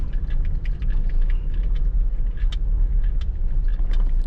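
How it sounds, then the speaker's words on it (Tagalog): Heavy highway traffic in Zamboanga City produces a loud, steady low engine rumble with small tonal bursts from passing vehicles scattered throughout, close and constant. "Heavy traffic na dun sa kabila."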